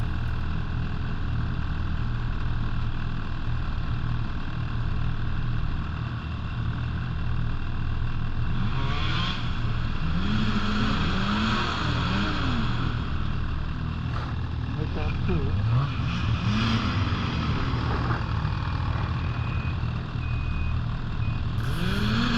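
Snowmobiles rev and spin on an icy road crossing with little traction, engines rising and falling over a steady mechanical drone, with someone talking throughout.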